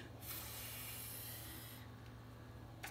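A voice imitates the hiss of two balloons deflating, a long steady breathy hiss lasting well over a second, then a shorter fainter second hiss, close and fairly loud.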